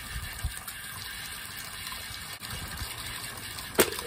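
Steady rushing water pours continuously at a low, even level, with a brief splash or clatter near the end.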